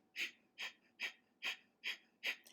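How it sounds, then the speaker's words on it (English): Rapid breath-of-fire panting through the nose: six sharp, evenly spaced exhalations at about two per second, close and fairly quiet, with nothing else in between. "Then I tell them to close the mouth, pant through the nose."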